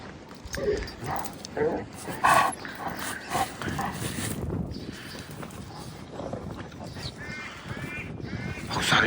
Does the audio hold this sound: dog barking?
yes